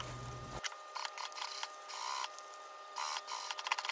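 A sewing machine stitches a school backpack panel in short, close, intermittent mechanical bursts separated by brief pauses.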